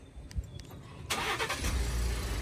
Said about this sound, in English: And we'll test out the remote start.